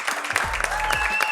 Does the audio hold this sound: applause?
yes